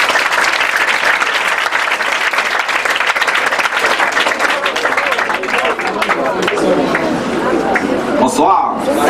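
An audience at a televised evening event in Gonaïves, Haiti, applauds warmly, dense steady clapping and crowd cheering filling the whole stretch at full volume, with a few louder whoops near the end.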